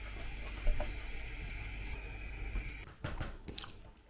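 Crispy food is bitten and chewed close up, a few crunchy bites followed by munching over a faint steady hiss in a quiet room.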